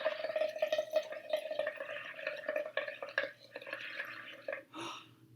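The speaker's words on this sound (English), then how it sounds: "I'm going to make bubbles with my straw." Someone blows through a straw into a cup of soapy water, making a run of bubbling gurgles and pops that stays fairly close and quiet, then trails off near the end.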